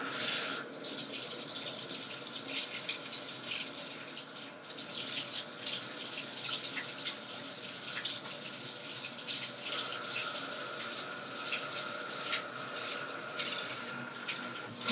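A bathroom faucet runs steadily into a sink while a facial cleansing brush is rinsed under it, a continuous close splashing flow with small drip-like variations throughout and no talking.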